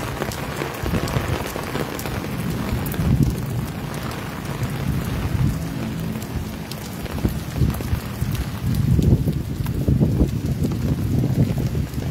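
Steady rain pattering on a surface throughout, a dense close hiss with heavier bursts of drops toward the end.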